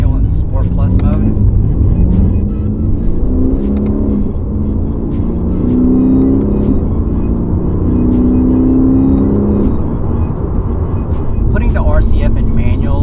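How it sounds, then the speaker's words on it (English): A Lexus RC F, set to manual and Sport Plus mode, pulls through several gears with a loud, aggressive engine note rising in repeated sweeps, heard close from the cabin with brief talk at the start and end. "The sound of the engine is a lot more aggressive."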